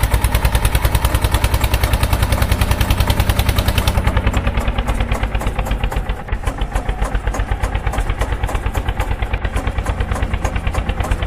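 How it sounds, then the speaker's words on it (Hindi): An Eicher tractor engine in the Indian Vehicles Simulator 3D game chugs with rapid, evenly spaced loud pulses, its tone thinning partway through while the steady throbbing continues. "उसके बाद आप लोग आयसर ट्रैक्टर की भी आवाज सुन पाए"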